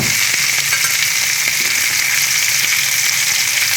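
Loud, steady sizzling of tilapia fillets pan-frying in hot oil, a dense continuous hiss with faint crackles, close up and uninterrupted.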